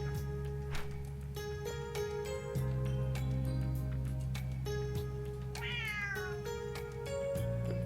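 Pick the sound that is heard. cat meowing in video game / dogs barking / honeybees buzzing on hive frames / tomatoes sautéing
cat meowing in video game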